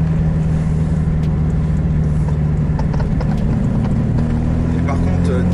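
A car engine fitted with Weber carburetors drones loud and steady, its low hum rising slightly in pitch near the end as it accelerates, with a voice speaking over it.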